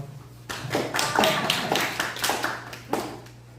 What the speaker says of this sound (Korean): 박수까지 치는 은혜롭습니다.